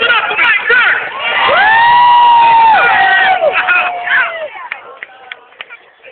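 A large crowd at a Martin Luther King Day event in Dayton, Ohio cheers and whoops for Mike Turner, with loud rising shouts and whistles swelling in the middle, then thinning into scattered claps and voices.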